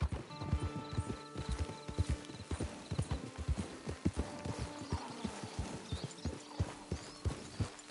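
Horse hooves clip-clop in a steady walking rhythm on hard ground in the video game Red Dead Redemption 2, with faint ambient tones behind the repeated clopping.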